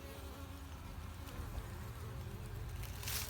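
Honeybees buzzing at a hive landing board in early spring, a dense steady drone of many wings close by, carrying on alone without talk.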